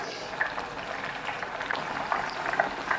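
Onion bhajis frying in very hot oil, a dense crackling bubble close up, steady for a few seconds with a voice murmuring faintly underneath.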